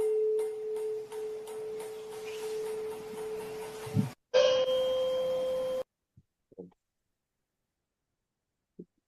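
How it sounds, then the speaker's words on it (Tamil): A 512 Hz tuning fork rings out a pure, steady tone, struck twice with a short gap, each ringing a few seconds before silence and a few faint clicks. "ஒரு 512ன்னு ஒரு ஃப்ரீக்வன்சில வைப்ரேட் ஆகக்கூடிய ஒரு இன்ஸ்ட்ருமெண்ட் வச்சிருக்காரு"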